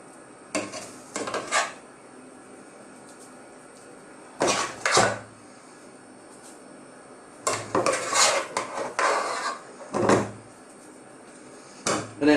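Chili mashed potato spooned onto a shepherd's pie in a dish, several separate bursts of spoon scraping and clinking against crockery with quiet gaps between them.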